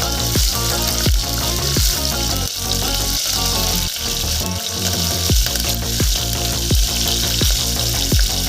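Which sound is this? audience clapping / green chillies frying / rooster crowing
green chillies frying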